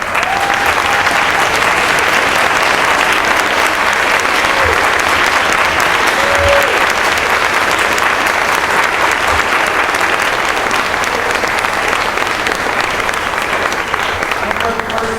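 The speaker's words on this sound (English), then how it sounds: "Give them a big applause, please." A school orchestra concert audience gives sustained applause, a dense steady wash of clapping from a large crowd filling the hall without a break.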